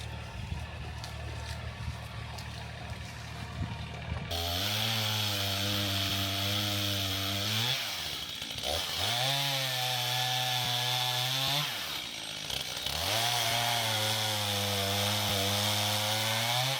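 A chainsaw cuts firewood logs into 12 to 16 inch sections at an off-grid cabin, loud and close, its engine revving up into long steady cuts and briefly dropping back between them.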